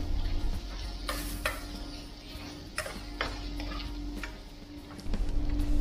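Chopped onions sautéing in a pan for ampalaya con carne, a steady low sizzle with scattered clicks and light stirring taps of a utensil, close and continuous throughout.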